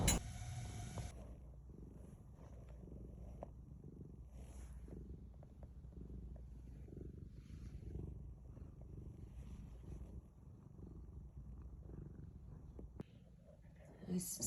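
A stray cat purrs steadily at close range in a continuous low rumble, with faint background noise and a few small bumps, no talking over it.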